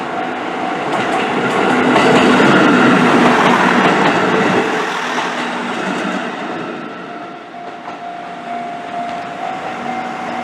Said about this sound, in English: And as the train comes in, the whole world comes to a stop.